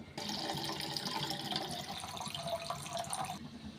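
Water runs steadily for a few seconds, a continuous splashing pour into a pot that fills the space and then stops abruptly near the end, with no talking.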